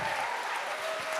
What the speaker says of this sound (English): let's have a massive round of applause for all of the speakers that we've heard tonight